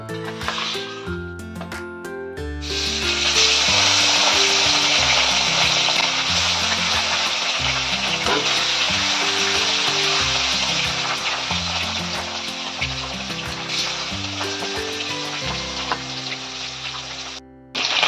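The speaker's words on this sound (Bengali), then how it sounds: "তেল গরম হয়ে গেছে। এবার আমি তেলে মাছটা দেব।" Loud, steady sizzling of rohu fish frying in hot oil, starting abruptly after a few seconds of quiet clatter and continuing almost unbroken.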